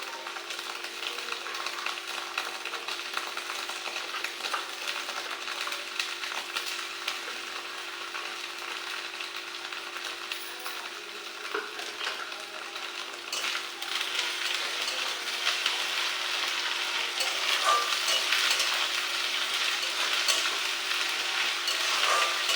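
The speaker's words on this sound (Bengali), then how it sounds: "আদা রসুনটা দিয়ে দিয়েছি। আমি পেঁয়াজটা ভাজতে ভাজতে" Ginger-garlic paste and onions fry in a pan with a soft, steady crackling sizzle, growing a little louder toward the end, with occasional light stirring and no voices.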